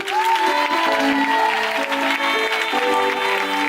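A church worship congregation claps and cheers at a service, a loud dense wash of applause with voices rising through it.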